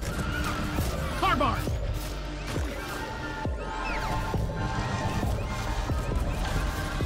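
A horse whinnies in Deep Rock Galactic, rising calls over layered music and effects, with excited voices talking over the top.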